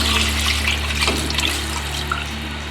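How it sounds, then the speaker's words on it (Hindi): Water runs steadily into a cooking pot, eight cups poured over onion pieces and a cinnamon stick to make stock for an Indian chicken curry. It is a continuous splashing stream heard close up with no talking. "8 कप पानी डालेंगे"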